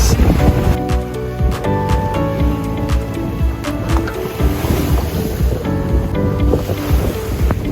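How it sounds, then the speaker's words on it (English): A boat motors through choppy waves in a channel near land, with loud wind buffeting the microphone, water slapping and splashing against the hull, and a steady engine drone underneath throughout. "now we're going in the channel"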